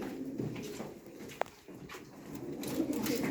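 Pigeons coo at a live pigeon auction, their soft throaty calls rising over a steady murmur of room noise, with one sharp click partway through.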